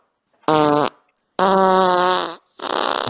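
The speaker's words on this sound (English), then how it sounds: "How many farts can we have in an episode?" Three loud, close farts in quick succession, buzzy and tonal, the middle one longest and the last breaking into a rougher sputter.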